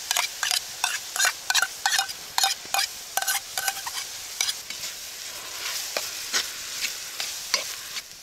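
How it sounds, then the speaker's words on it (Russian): Chopped onion fries in a pan over an outdoor campfire by a forest log cabin, with a steady sizzle beneath quick, rhythmic scraping strokes of a utensil stirring against the metal, close and clear. "Минутки 3 обжариваем лук."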